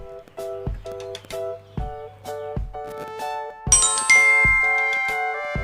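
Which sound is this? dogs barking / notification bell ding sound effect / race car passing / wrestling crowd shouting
notification bell ding sound effect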